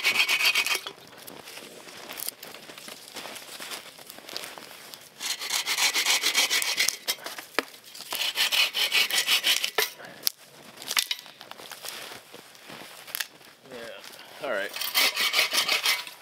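A hand saw cuts through wood in the woods while building a fort, producing rhythmic rasping back-and-forth strokes, close and fairly loud, with brief pauses between bursts of sawing.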